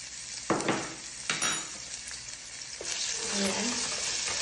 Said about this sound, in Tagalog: nalagay na ako ng kunting oil sa pan. At ilalagay ko na itong 1 tablespoon ng ginger at garlic mix